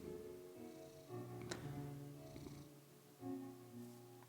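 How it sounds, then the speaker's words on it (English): A tamed black cat in Minecraft purrs softly, a low rumbling hum that swells and fades in gentle waves, quiet and close, with faint in-game background tones. "tamed the black cat, and now we have a friend"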